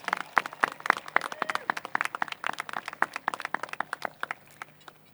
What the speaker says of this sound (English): Let's give our bilingual bulldogs a round of applause